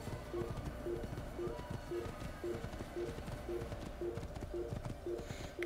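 Horse hooves clip-clop at a steady trotting rhythm in the Assassin's Creed video game, quiet and even over a low ambient game background, with no talk.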